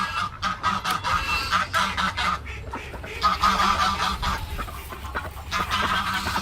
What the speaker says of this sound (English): we just fed all of the ducks in here